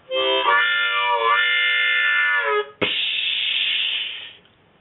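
A harmonica holds a wailing chord that bends, then breaks into a breathy, hissing rush imitating a steam train letting off steam, fading out.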